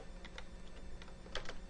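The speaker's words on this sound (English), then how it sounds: "I'm just typing random numbers here" Quick, uneven clicking of keys on a computer keyboard, close up, with no voices.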